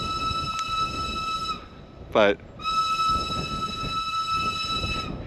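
The Pikes Peak tram passes on the mountain road, a short rising whoosh or horn-like tonal sweep cutting through steady wind and a car engine's droning hum, with a brief spoken word.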